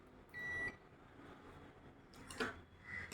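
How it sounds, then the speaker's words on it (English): A UNI-T UT210E multimeter gives short, faint beeps on its continuity test as the two probe leads touch, with a steady tone early on and a brief blip later over quiet background. "When these two leads will touch with each other, we can hear a beep."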